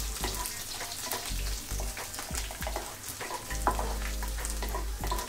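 Crushed garlic frying in a pan for ridge gourd bharta, a steady close sizzle with scattered crackles and a low rumble underneath, continuous throughout.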